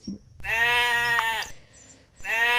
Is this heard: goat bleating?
yes